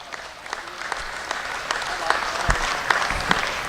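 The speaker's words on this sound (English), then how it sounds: "Let's give all of our exhibitors of champions a nice round of applause" Audience applause at a sheep show as champion exhibitors, including Suffolks, are honoured; steady clapping from a hall crowd with scattered louder claps, a loudspeaker voice faintly present.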